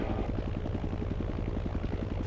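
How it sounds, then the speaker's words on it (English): A video game helicopter's rotor thumps in a fast, steady rhythm, loud and droning as if hovering close overhead. "there's a helicopter over me"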